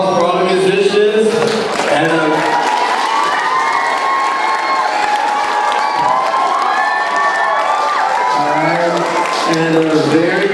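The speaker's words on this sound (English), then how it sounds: "One more round of applause for all the musicians." Crowd at an elementary school spring concert cheers and claps for the musicians, with loud whoops and children's shouts over the applause and a voice speaking briefly near the start and end.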